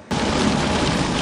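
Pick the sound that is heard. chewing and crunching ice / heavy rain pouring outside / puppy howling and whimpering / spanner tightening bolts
heavy rain pouring outside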